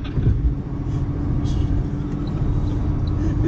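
Cabin rumble as an Autolib electric car accelerates toward its top speed, a steady low road and motor drone heard from inside without any engine revving.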